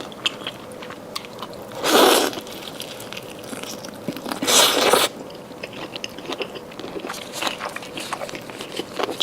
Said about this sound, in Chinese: 这个一起吃一下，这是一个翅根。